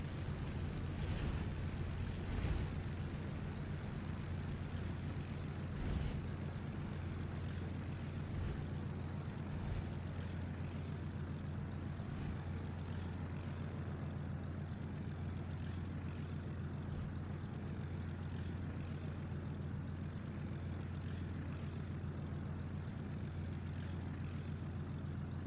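Bf 110 C-4 twin-engine aircraft coming in to land in War Thunder, a steady low droning engine hum with occasional dull thumps, continuous and moderately loud, no voices.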